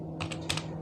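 Someone types a few quick keystrokes on a computer keyboard in Microsoft Word, a short cluster of close, crisp clicks over a faint steady electrical hum.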